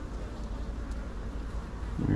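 Honey bees buzzing around an open hive frame of capped brood and honey, a dense continuous hum close by, with a brief thump near the end.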